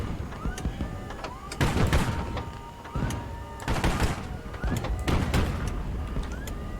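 Gunfire and explosions in the naval-aircraft strategy video game HighFleet, repeated loud bursts and thuds at irregular intervals over a continuous mechanical rumble.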